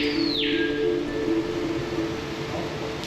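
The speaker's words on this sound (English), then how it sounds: "You'll hear the birds before you see them." Birds call from the treetops of an indoor rainforest exhibit at the Dallas World Aquarium, a clear descending call followed by a thin sustained tone over a steady hum of background noise.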